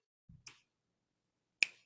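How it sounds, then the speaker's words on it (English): A single sharp finger snap rings out clearly and alone in a quiet room, preceded by a softer fumbling tap, with silence afterward. "every time I snap my fingers"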